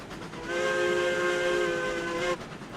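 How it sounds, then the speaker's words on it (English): A steam locomotive whistle in the railroad video game RailRoads Online blows one long, loud, shrill blast of about two seconds with a hissy edge, then cuts off abruptly. "I don't think we're going to get any more crazy whistle effect up here as we're now blowing over the top."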